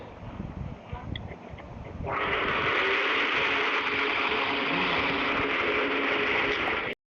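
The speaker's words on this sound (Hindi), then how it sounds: "मिक्सी चल रहा है" A quiet rumble of background noise gives way to a mixer grinder starting up, its loud, steady whirring grind running continuously until a sudden stop.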